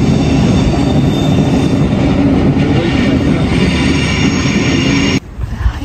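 A train rumbles loudly and steadily through a Swiss railway station near Interlaken on the line from Lauterbrunnen, with wheel and carriage noise close by before it cuts off abruptly near the end.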